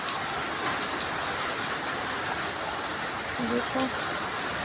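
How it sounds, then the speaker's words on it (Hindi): Heavy rain falls in a steady, dense hiss that carries on without a break, while a person says a single word over it. "देखो कितनी तेज़ बारिश आ गई है"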